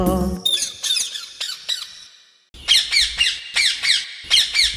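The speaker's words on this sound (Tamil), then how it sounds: "பச்சை பச்சை கிளியே வா பாட்டு பாடும் கிளியே வா" A green parrot squawks in a series of loud, shrill calls, a first burst of several squawks, a short pause, then another rapid run of harsh cries, heard alone.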